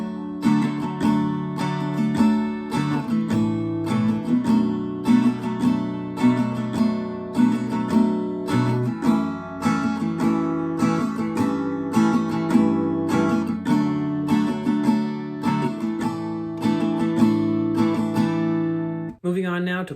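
Full chorus section of a song, live version, played on a strummed acoustic guitar: continuous rhythmic chord strokes with regular accents, near and moderately loud with no voice, stopping abruptly at the end.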